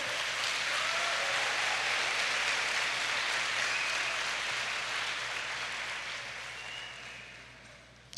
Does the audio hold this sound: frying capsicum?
no